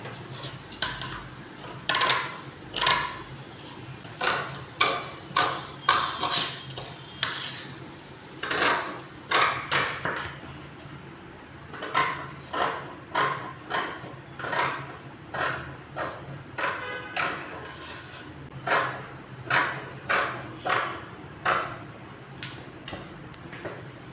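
Scissors cut through blouse fabric in a long run of crisp, regular snips, each a short sharp crunch, close by and steady with brief pauses and no voices.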